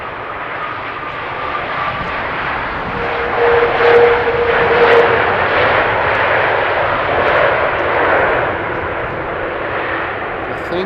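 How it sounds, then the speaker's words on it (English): Cargo airplane arriving at Amsterdam Schiphol Airport on a windy day, a loud steady jet roar that swells slightly midway and holds, with wind buffeting the microphone throughout. "You can see that this is a cargo airplane by the extra bulging on the front of the landing gear."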